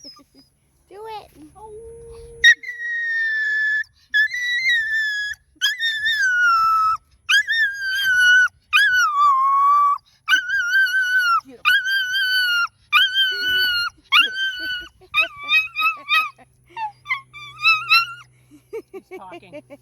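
A dog howls and whines in a series of drawn-out, wavering cries with short pauses between them, close and fairly loud.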